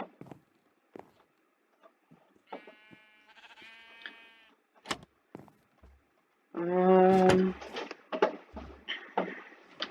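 Sheep in Minecraft bleat in short, wavering calls, one early and a louder, closer burst later, amid soft clicks and footsteps in a quiet game world.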